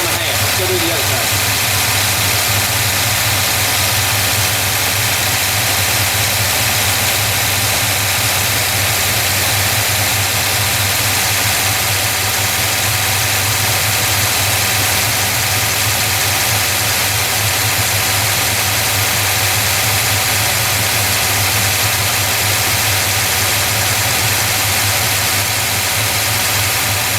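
A truck engine with a Holley carburetor idles steadily for the whole stretch, a constant low rumble with a faint mechanical vibration, heard up close and without pauses.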